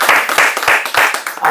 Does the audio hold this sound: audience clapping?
yes